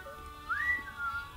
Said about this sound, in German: Da muss ich ja pfeifen.